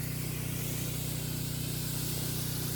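Herbicide spraying on pear trees in an orchard, heard as a steady, loud, continuous hiss of spray with a constant motor hum underneath and no break.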